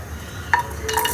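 Garlic tossed into a pan of vegetables for low-oil diet chicken chilli, a brief clink and scrape at the stir followed by a faint sizzle over steady background hum.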